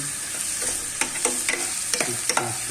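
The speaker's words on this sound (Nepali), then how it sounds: "प्याज र खोर्सानी हाल्छु।" Onions and green chillies fry in a pan, a steady sizzle with repeated scraping stir strokes that come close and loud, with no voices.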